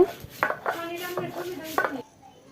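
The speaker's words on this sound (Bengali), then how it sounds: "এখন আমি প্রথমে শুকনা মরিচগুলো বেটে নেব" Dried red chilies being ground on a flat stone slab with a grinding stone, giving a series of close, sharp scraping and knocking strokes in an uneven rhythm with no talk.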